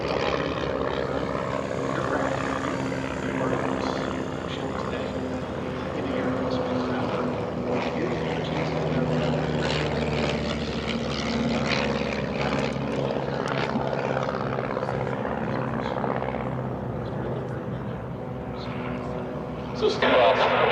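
Propeller warbird aircraft fly past at the EAA AirVenture air show, a continuous broad engine drone heard at a distance under ongoing commentary and crowd talk.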